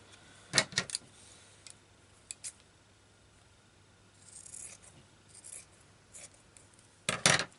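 Scissors trim fabric for a fabric cluster decoration in a few quiet, scattered snips with soft handling rustles between them, close and fairly faint.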